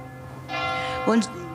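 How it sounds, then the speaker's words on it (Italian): Church bells ring in the background during an Italian news report from the Veneto, a steady bright tone under a voice that speaks briefly near the end. "ci sono le campane in sottofondo"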